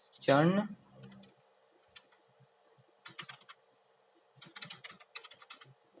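Faint, quick bursts of computer keyboard typing come in several short clusters as an app name is entered, following a brief spoken voice at the start in an otherwise quiet room.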